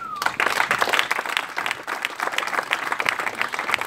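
A church congregation at a Sunday prophetic prayer service claps together, dense rapid applause filling the room continuously and fairly loud, with a brief voice near the start.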